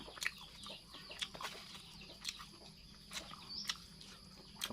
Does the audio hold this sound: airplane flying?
no